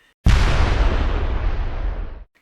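A giant explosion sound effect bursts in suddenly as a loud, heavy rumbling roar with a deep low end, holding for about two seconds before cutting off abruptly, with no voices.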